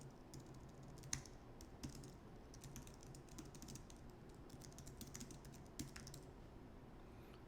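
Steady typing on a computer keyboard, rapid soft key clicks running continuously with a few sharper louder strikes, close and alone with no talking.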